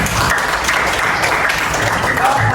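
A room full of people applauding, with dense, steady clapping that stays loud and even for the whole stretch, with no pauses.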